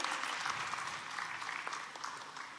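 An audience applauding as a booklet is released at an official ceremony with the state chief minister, sustained even clapping from a large crowd throughout, no voices on top.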